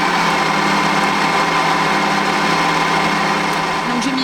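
A kitchen robot mixing at speed 4 gives off a loud, steady motor whir that holds at an even pitch and volume throughout, close by and with no pauses.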